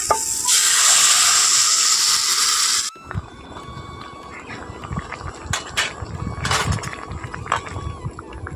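Hot water poured into fish roe frying in a pan gives a loud burst of sizzling hiss that lasts about three seconds and then cuts off. Softer bubbling and clinking follow at a lower level.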